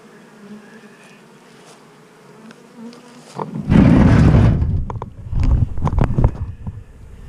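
Honey bees at an opened hive start as a faint background hum, then swell into a loud, dense buzz close to the microphone, with scattered knocks from hive handling and no talking.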